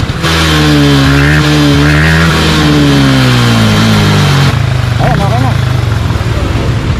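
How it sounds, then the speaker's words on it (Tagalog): A motorcycle engine runs loud and steady in fourth gear, its pitch rising and falling through gear changes, with voices speaking over it. "buksan mo yung makina tapos paandarin mo hanggang 4th gear"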